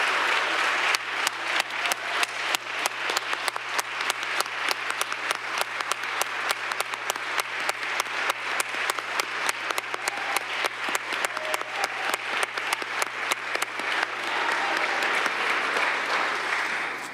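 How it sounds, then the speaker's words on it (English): A council meeting audience in Cleveland applauds a championship high school football coach, a dense, steady round of clapping that fills the room for about seventeen seconds and swells slightly near the end before fading. "I'm going to ask all of us to give this gentleman a round of applause"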